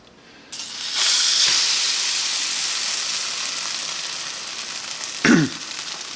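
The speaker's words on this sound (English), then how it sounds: "Nice hot pan. Right away it's going to sear it." Banana bread French toast soaked in egg and cream custard hits a hot pan, bursting into a loud, steady sizzle that holds, with a brief spatter near the end.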